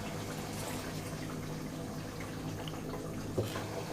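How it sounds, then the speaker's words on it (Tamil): Steady running water splashes and trickles continuously as a mixer jar is rinsed and poured into a curry, with a brief clink near the end. "இப்போ மிக்ஸி ஜாரையே கொஞ்சம் அலசிட்டு ஊற்றிக்கலாம்."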